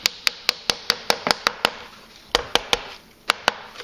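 Sharp, evenly spaced taps of a tool driving pressed cane into a chair seat groove, about a dozen crisp knocks at a steady rhythm with a brief pause midway, close and clear with no talk.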